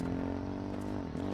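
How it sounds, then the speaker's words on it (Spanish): A quad bike engine in the survival shooter H1Z1 hums steadily at a distance, a low buzzing drone that dips briefly near the end, with no voices over it. "Eso suena como un cuad o algo, ¿no?"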